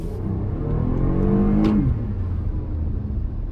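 A 2021 Toyota Highlander Limited in sport mode accelerates hard, its engine note rising steadily then dropping at a gear shift before settling into a steady hum, heard from inside the cabin with no talking.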